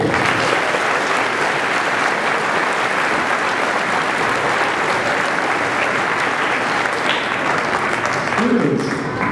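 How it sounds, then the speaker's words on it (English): Students fill a school hall with loud, dense, continuous applause during a Take A Veteran To School Day program, sustained evenly throughout and tapering slightly near the end. "Yes, that's worth a clap, absolutely."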